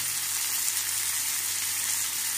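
Coriander, cumin, tomato and a lump of jaggery roasting in oil in a pan, a steady close sizzle holding even throughout with no voices.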